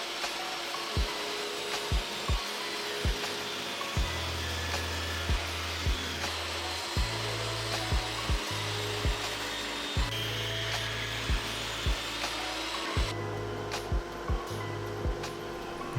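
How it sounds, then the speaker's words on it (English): A table saw rips a 2x6 wooden board down to thickness in a workshop, its motor humming steadily while repeated sharp clicks and knocks punctuate several passes through the wood. "I took several passes at the table saw to get it to thickness."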